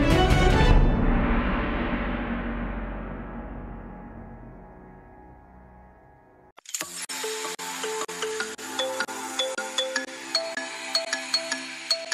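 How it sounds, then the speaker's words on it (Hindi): A loud chime-like tone rings and slowly decays, then after a brief gap a bright electronic ringtone melody plays in repeating pulses, with no talking. "आ गया नीलो का फोन"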